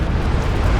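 Rocket barrage explosion in the World War II strategy game Company of Heroes 2, a dense, loud, rumbling blast that fills the whole short moment with low booming roar.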